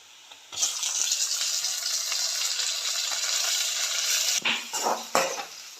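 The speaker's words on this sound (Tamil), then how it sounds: "இஞ்சியும் பச்சை மிளகாவும் நல்லா வதங்கிடுச்சு. இப்போ தக்காளி போட்டுக்கலாம்." Tomatoes dropped into a hot pan with sautéed ginger and green chili for a quick breakfast dish, a sudden loud sizzle that holds steady, then a few clanks and stirring knocks near the end, close up with no talking.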